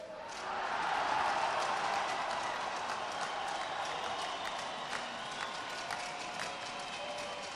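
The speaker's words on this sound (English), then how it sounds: "the big cheer you heard was from mat number 3" A large arena crowd at the World Judo Championships in Astana roars and applauds from a distance, a broad sustained cheer that peaks early and then settles into a lingering murmur.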